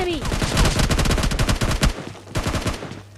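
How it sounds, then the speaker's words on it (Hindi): Rapid automatic gunfire from PUBG Mobile Lite, a loud, continuous rattle of shots for about two seconds, a short pause, then another burst of fire. "उनके पैरों पर फायर करने लग रहा था"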